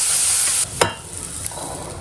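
Boiled peas being roasted in a kadhai give a short, bright sizzle that drops off abruptly, followed by a sharp scrape or clatter and a quieter hiss with a couple of light knocks.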